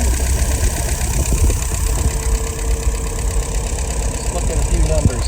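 An engine idles steadily just after being fired up, producing a close, constant rumbling drone with a faint knocking texture and no break.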